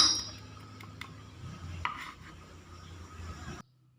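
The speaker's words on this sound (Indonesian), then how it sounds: "di sini bawang putihnya aku cacah seperti ini" Garlic being minced with a knife on a board, heard as scattered light taps and scraping chops at moderate distance, fairly quiet, with a clink of utensils and no talking.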